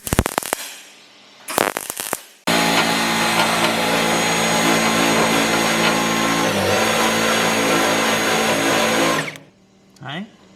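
An angle grinder runs continuously on metal during R33 car restoration work, a loud, steady, harsh whine lasting several seconds, preceded by two short bursts and ending with a brief spin-down.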